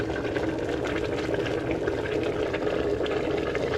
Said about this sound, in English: So that should be getting on for boiling now,